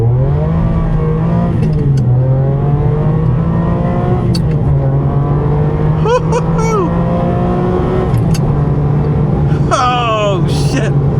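A Ferrari 550 Maranello engine revs hard and climbs through gears, loud and close, with rising whines at each shift.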